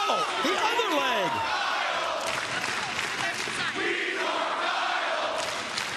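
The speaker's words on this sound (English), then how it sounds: "The crowd is crazy." A wrestling arena crowd roars and cheers during an AEW Collision broadcast of a TNT title match, a loud continuous swell of voices with an announcer talking over it.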